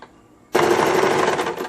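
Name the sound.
sewing machine stitching a pocket onto a blouse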